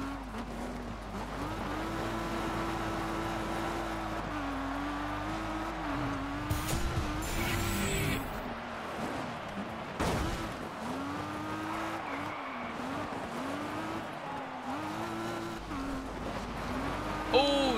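A rally car in Colin McRae Dirt 2 roars with a wavering engine note as its tires scrabble and squeal in a near spin, loud and steady, with a voice talking over it.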